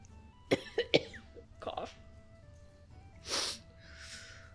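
A few sharp coughs in quick succession, followed after a pause by a louder breathy cough or sneeze and a softer exhale, close by.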